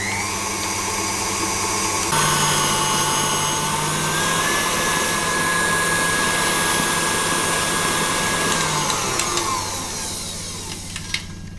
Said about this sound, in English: So I'll whisk this for 5 minutes or so